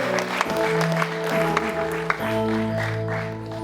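Audience applause at a church torch procession celebration, a steady crowd clapping with scattered sharp claps over a sustained organ-like musical tone, loud and close.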